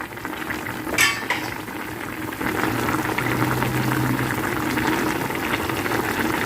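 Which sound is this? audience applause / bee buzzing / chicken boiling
chicken boiling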